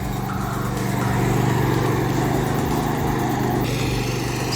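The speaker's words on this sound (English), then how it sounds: "He's still mowing the lawn." A lawn mower drones steadily nearby at a park in Tauranga, New Zealand, its engine hum holding constant with slight wavering throughout and no speech.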